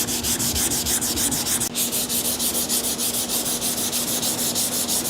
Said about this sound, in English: So we're gonna go ahead and get this thing sanded